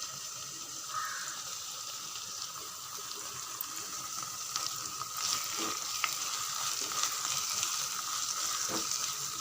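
Chicken kuzhambu masala sautés in a pan with a soft, continuous sizzle and scattered sharper pops, heard fairly faint and close with no speech.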